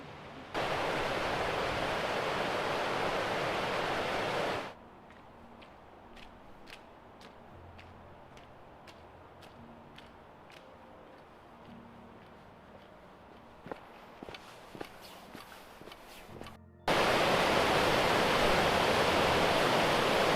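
Flowing brook water at Wyming Brook near Sheffield on a frosty morning, a dense steady rush heard loud at the start and end, with a quieter stretch in between holding footsteps and small clicks.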